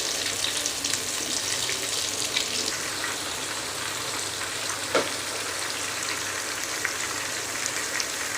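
Chilli mushroom frying on high flame, a continuous hissing sizzle of oil with occasional stirring clinks, steady and close with no talking.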